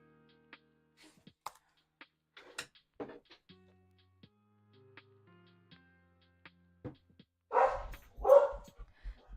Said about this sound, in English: Puppies, no barking.